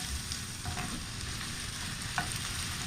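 Mushrooms frying in a pan, a steady close sizzle with occasional light scrapes as they are stirred, no talking.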